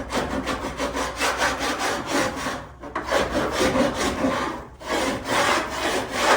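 Steady, rhythmic back-and-forth sanding of body filler on a car fender flare, loud and close, pausing briefly twice before resuming.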